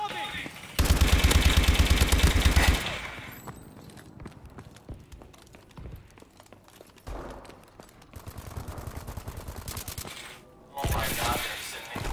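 Gunfire in a video game, with a loud sustained burst of automatic fire early, rattling shots and mixed game noise through the middle, and another loud burst near the end.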